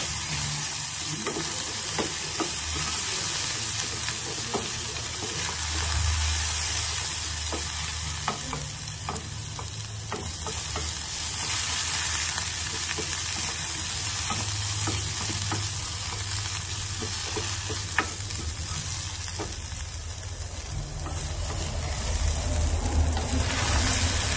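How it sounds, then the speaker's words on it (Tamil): Potatoes sizzle and crackle steadily in a hot pan, with occasional stirring scrapes, close by and fairly quiet, with no talking. "இது நல்லா ஃப்ரை ஆகிடும்"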